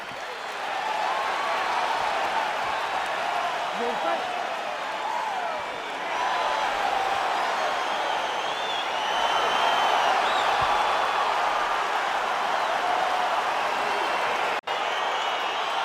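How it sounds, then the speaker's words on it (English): A crowd roars and cheers in the arena of the EA Sports UFC 4 video game as a fight begins, giving a steady, dense wash of crowd noise that holds for about sixteen seconds. "crowd getting excited as this fight gets underway"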